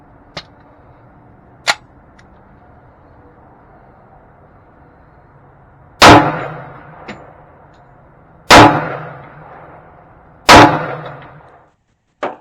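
A Para Ordnance 1911 pistol fired outdoors, with three loud, sharp reports spaced a couple of seconds apart, each ringing out briefly, and fainter clicks and taps between them.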